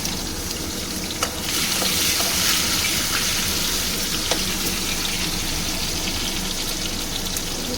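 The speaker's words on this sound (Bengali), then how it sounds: "এবারে আমি এই টমেটোটা তেলের মধ্যে দিয়ে দিলাম, একটু নেড়ে চেড়ে নিয়ে" A tomato sizzles and crackles in hot oil in a pan, a dense steady frying hiss broken by occasional pops and stirring clicks, close and continuous with no talk.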